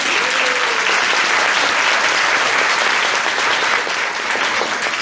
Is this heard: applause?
yes